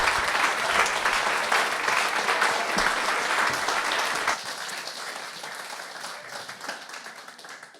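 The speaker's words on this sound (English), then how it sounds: "Can we just say a big round of applause?" Applause and clapping from the audience at a book launch party, dense and steady, then thinning to scattered claps as it fades toward the end.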